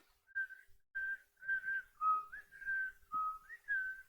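A person whistles a theme song alone, a clear, close melody of about eight sustained and sliding notes in a steady rhythm.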